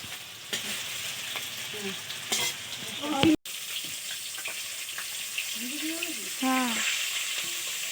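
Stirring and frying in a village kitchen, with steady sizzling broken by spatula scrapes, a sharp clatter, and brief murmured talk in the background.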